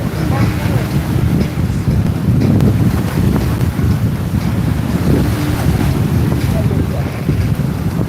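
Racing powerboat passing at speed during a Torquay race, a loud roar buried under heavy wind buffeting and crashing water, sustained and rough without clear separation of the engine note.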